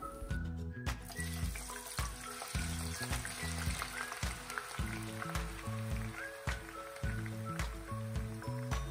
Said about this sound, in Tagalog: lagay niyo po yung tokwa sa inyong sandok para hindi po tayo matilalsikan ng mantika